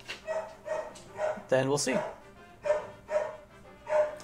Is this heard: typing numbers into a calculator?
no